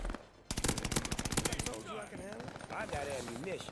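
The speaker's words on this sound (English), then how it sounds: "This gun is very satisfying to use. Some with like the fire rate and the silencer sounds are just cool." Suppressed Nikita AVT rifle fire in Call of Duty Vanguard: a fast, tightly spaced burst of muffled shots lasting about a second, then someone talks over quieter game sounds.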